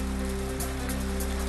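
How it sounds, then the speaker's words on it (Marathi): Heavy monsoon rain pouring steadily in Vaijapur taluka, Chhatrapati Sambhajinagar, a dense, unbroken hiss of downpour with a low electrical hum underneath. "छत्रपती संभाजीनगरच्या वैजापूर तालुक्यात मुसळधार पाऊस।"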